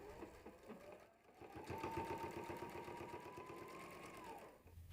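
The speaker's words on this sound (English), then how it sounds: "let me get that basted down and I'll be right back" Sewing machine basting a seam on a satchel bag, running steadily for several seconds with a fast, even mechanical whir and needle chatter, close and alone without talk.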